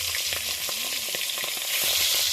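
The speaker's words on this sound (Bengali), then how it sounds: "পাঙাশ মাছ কিন্তু তেলে দিলে খুব ফোটে" Pangas fish pieces splutter and crackle in hot oil, a loud, dense frying hiss broken by sharp pops and spits, heard close up with no talking.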